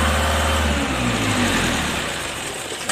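A diesel Nissan Frontier engine, ZD30 or YD25, runs roughly at idle and fades as though stalling after a rev, a loud low rumble filling the whole stretch with no voices.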